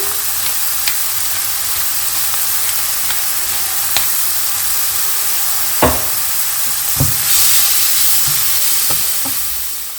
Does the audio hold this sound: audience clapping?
no